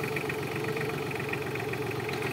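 A New Holland Simba 30 tractor engine runs steadily with its rotavator attached, giving a continuous, fairly loud mid-to-low rumble with a fine rhythmic chug and no talk over it.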